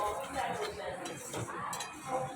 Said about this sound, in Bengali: তো খুব ভালো করে নাড়াচাড়া করে মিশিয়ে ঠিক এরকম করে নামালাম